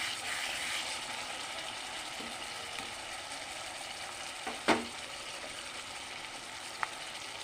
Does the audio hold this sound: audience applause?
no